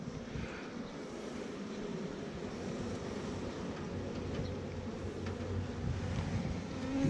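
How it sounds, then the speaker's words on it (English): Honeybees swarm around an opened cage holding a Hawaiian queen at dusk, making a dense, steady low hum that grows slightly louder toward the end, with no talking. "Lots of bees."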